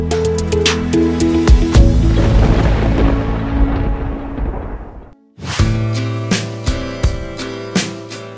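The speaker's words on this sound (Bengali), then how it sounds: "বজ্রপাত। কিন্তু কখনো কি ভেবেছেন বজ্রপাত কিভাবে ঘটে?" Thunder and lightning: a loud, rolling crash rumbles and slowly fades over about five seconds, then breaks off sharply into a fresh burst with punchy, repeated booms.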